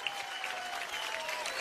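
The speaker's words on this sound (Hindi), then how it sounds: "परिणीति के लिए एक बार जोरदार तालियां हो गए" An award show audience claps for Parineeti Chopra in a quick, steady burst of moderately faint applause filling a large hall.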